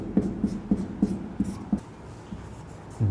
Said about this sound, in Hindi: लिखते हैं तीसरा उदाहरण